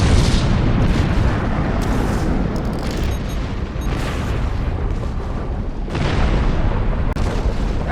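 Loud, continuous rumbling explosions from a bombing run in the Star Trek Online video game, with heavy booms rolling one into another and fresh blasts swelling around the middle and again near the end.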